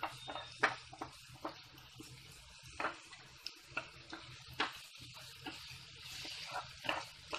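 Ingredients for homemade Schezwan chutney fry quietly in a pan, with a soft steady sizzle broken by irregular clinks and scrapes of stirring.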